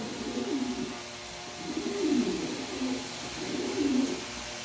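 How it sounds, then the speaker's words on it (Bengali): Young male pigeon cooing close by, three low, rolling coos repeated at a steady pace. "এখানে এক পিস নর কবুতর আছে"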